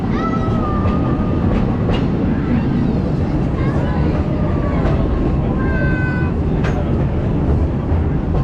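The Magic Kingdom railroad train rattles and rumbles throughout, a loud, continuous low clatter with occasional squeals and creaks, while people talk over it.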